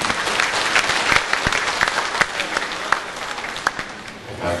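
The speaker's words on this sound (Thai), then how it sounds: "ขอเสียงปรบมือต้อนรับท่านวิทยากรด้วยค่ะ" Audience applause welcoming a speaker at a seminar on earthquake hazards, a lively roomful of clapping with distinct sharp hand claps standing out near the microphone, gradually easing off.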